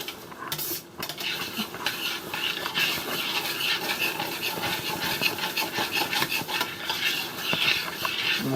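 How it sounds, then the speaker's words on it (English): Diced canned tomatoes stirred into a pot of steak chili, a continuous wet scraping and rubbing of the spoon against the pot, steady and close with no speech. "And then stir that in"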